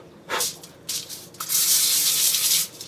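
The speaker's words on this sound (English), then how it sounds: "what we're going to do is spray aluminum foil" Short hissing bursts of cooking spray onto aluminum foil, two quick puffs then a longer steady spray, close by with no talking.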